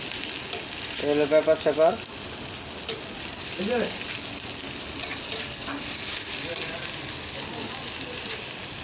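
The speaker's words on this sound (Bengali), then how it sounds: "এই যে পেঁয়াজ মরিচ ছাইড়া দিছে" Onion and chili frying in oil, a steady hissing sizzle throughout, with someone speaking briefly near the start over it.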